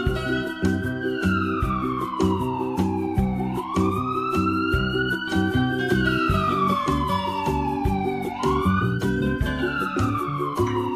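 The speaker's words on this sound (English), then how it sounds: "Ambulance." An emergency siren wails in long rising and falling sweeps, loud and steady throughout, with a rhythmic tapping beat running underneath.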